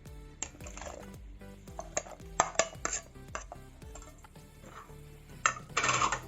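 Chopped brinjal tipped into a pot of thin lentil batter, giving a run of clattering knocks and scraping metal sounds from the pot and utensils, close and moderately loud, with brief pauses between bursts and no talking.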